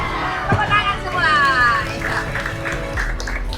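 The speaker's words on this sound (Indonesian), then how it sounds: "Tepuk tangan semua." School hall of junior high students applauding, a dense clapping wash mixed with crowd chatter and a few squeals of feedback or whistles, with a talking voice over it.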